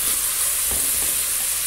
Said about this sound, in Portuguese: E tô refogando ali o alho e a cebola pra colocar.